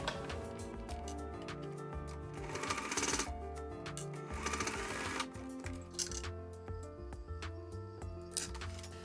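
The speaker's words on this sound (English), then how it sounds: "just a simple straight stitch" A sewing machine stitches a straight seam on a protective face mask, its needle chattering in quick rhythmic bursts with brief pauses, close and fairly quiet, without any voices.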